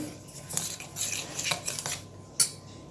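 A utensil scrapes and clinks against a bowl in a few quick strokes, close by, stirring rava (semolina) paniyaram batter, with one sharper tap near the end.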